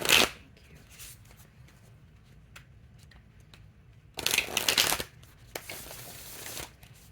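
A deck of oracle cards is shuffled by hand nearby, with a quick riffle at the start, then a longer burst of crisp shuffling and a softer one after it, separated by light handling noise.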